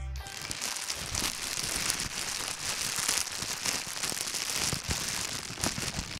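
A plastic bag crumpled by hand to mimic fire, giving a dense, continuous crackle of sharp crinkles across the whole stretch, close and fairly loud, with no talking.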